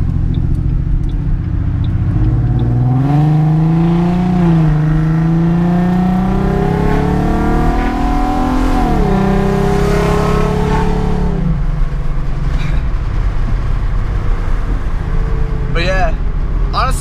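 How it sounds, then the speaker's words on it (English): A loud 2007 Mustang V6 engine with no catalytic converters revs up and down, its raw, rasping exhaust roaring close by with rising and falling pitch, then settling into a rough idle. "That's how loud this car is when I'm driving because of the exhaust and having no cats on it."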